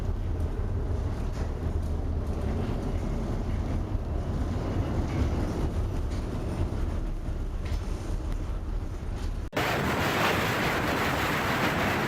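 Giant storm waves in the North Sea crash against a large chemical tanker, a loud, continuous roar of surf and wind that swells throughout, with a sudden shift to a brighter, harsher wash near the end.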